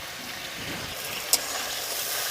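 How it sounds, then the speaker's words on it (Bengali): Ground spice paste with turmeric, salt and a splash of water sizzles steadily in hot oil in a Bengali kitchen, a soft continuous frying hiss with one brief clink partway through. "তেল ছাড়ার আগ পর্যন্ত মশলাটাকে ভালো করে কষিয়ে নেব"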